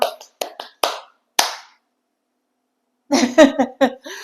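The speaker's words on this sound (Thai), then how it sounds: "ปรบมือเพื่อยื้อเวลานะครับ" A few bursts of hand clapping come close and crisp in quick sets, then a pause and a person talking at the end.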